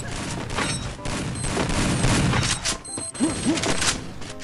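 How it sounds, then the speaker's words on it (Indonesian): Explosions and gunfire from the Free Fire mobile battle game on the Purgatory map, a grenade blast among dense fusillade bursts, loud and continuous across the clip with a couple of short whooshing effects near the end. "Tuh, makan tuh granat."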